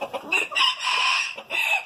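Silkie chickens cluck and squawk in short bursts, fairly close and loud, with a few overlapping calls.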